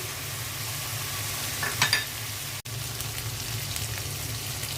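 Rui fish frying in a pan give off a steady, soft hiss of sizzling oil with no voices, broken by a brief louder crackle and a moment's dropout.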